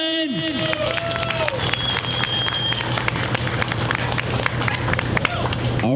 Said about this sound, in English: can we get applause for the 3 minutes in?